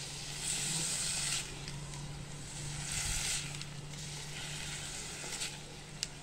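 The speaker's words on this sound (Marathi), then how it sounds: "फास्ट गॅसवरती हे पनीर परतून घ्यायचं आहे आपल्याला" Paneer frying in ghee over a high flame gives a soft, steady sizzle and hiss, fairly faint and continuous, with a few small crackles.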